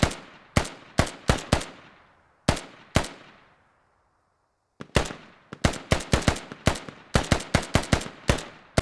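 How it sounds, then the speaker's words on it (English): Small arms fire cracks back and forth in the Squad video game, sharp single shots and quick bursts with echoing tails and a short lull, heard moderately close without voices. "Militia and Russia trading small arms"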